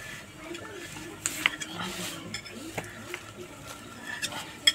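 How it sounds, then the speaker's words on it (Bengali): Papads being lifted from a pan with a knife: faint, scattered metallic scrapes and small clicks against the pan, irregular and close, under a quiet kitchen background with some low speech. "চাকুর সাহায্যে তুলে নেব পাপড়গুলো।"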